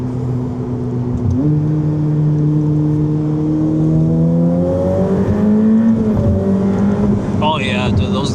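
A Ferrari engine accelerates hard in third gear, its pitch climbing steadily before a quick gear change. The loud, close revving is heard from inside the car.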